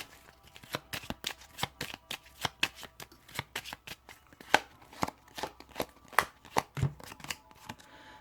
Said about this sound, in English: what I'm going to do is just shuffle on these and then choose the 7th from the top of the deck